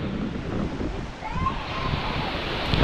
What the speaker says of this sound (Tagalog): Sobrang lakas na ng hangin.